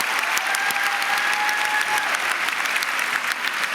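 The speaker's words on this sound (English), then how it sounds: "Thank you for that round of applause." Audience applause fills a hall at a talk and book event, steady, dense clapping held at full level throughout, with a faint tonal hum drifting underneath for the first two seconds.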